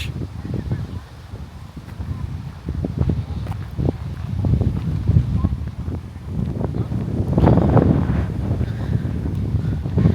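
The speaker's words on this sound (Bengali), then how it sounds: "অস্থির প্রচুর বাতাস" Strong wind buffets the microphone in a steady, heavy roar that swells and gusts louder toward the end, with no one speaking over it.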